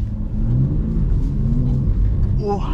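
A car drifting around a track on a final lap, its engine revving in a loud, sustained rumble that rises in pitch toward the end, heard up close without break.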